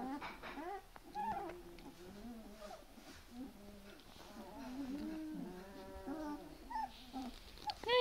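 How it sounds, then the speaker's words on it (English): Puppies playing together indoors, with soft yips, whimpers and playful barks scattered across the moment, mostly close and at modest volume, with no clear speech. "They're barking over there, there's a puppy pal sleeping."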